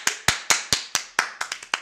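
Eleven sharp hand claps in a loose, slightly accelerating rhythm, close and fairly loud with no talking, the later ones coming quicker and a little softer.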